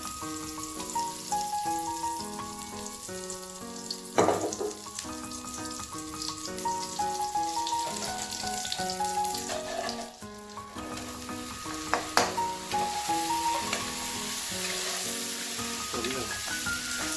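Paneer fries in butter with a continuous soft sizzle, half buried under loud melodic background music.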